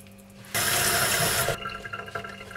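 Tap water gushes loudly into a kitchen sink for about a second during washing up after preparing salmon, then drops to a softer trickle and splashing.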